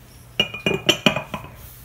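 A glass jar holding blue cotton swabs clinks five times in quick succession, sharp bright taps close by with short gaps between them.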